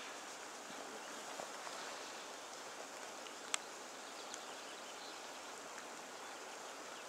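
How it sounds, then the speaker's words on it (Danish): Rain falls steadily beside the Namsen river while salmon fishing, a soft even hiss blending with flowing water, with one brief sharp click. "Nu regner det."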